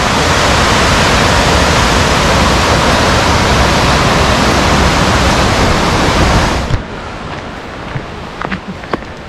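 River or creek near Lake Hintersee in Ramsau, Germany, rushing in a loud, steady broadband wash that cuts off abruptly to quiet background with a few faint knocks.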